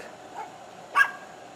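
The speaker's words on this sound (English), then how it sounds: "And there's a noisy doggy. Yorkie." A Yorkie dog gives a single short, sharp bark at a moderate distance, preceded by a faint yip, over a quiet outdoor background.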